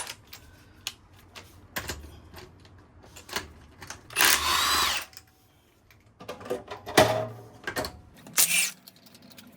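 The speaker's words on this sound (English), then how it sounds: "So we'll take off the wheel lock first." A wheel lock comes off the front wheel of a Jaguar F-PACE SVR with a 21 mm socket. A power tool gives two short whirring bursts, surrounded by scattered metallic clicks and clanks in a quiet garage.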